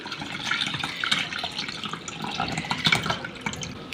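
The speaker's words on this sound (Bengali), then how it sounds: "সুতির কাপড় পরিষ্কার করে নিয়েছি এটার মধ্যে আমি এই মিশ্রণটা ঢালছি" A peanut mixture is poured through a cotton cloth, making a soft, continuous splashing trickle of liquid with small drips and gurgles, fairly quiet and close.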